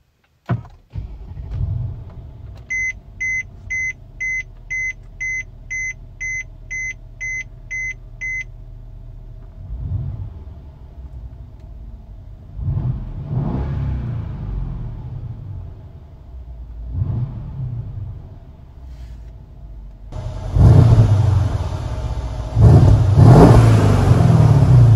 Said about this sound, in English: let's start it up, see how it sounds.